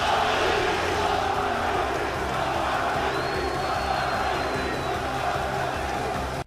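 A large esports arena crowd at a Counter-Strike tournament in Cluj-Napoca roars and cheers steadily and loudly throughout, with shouts and whoops blending into a dense, sustained wall of noise.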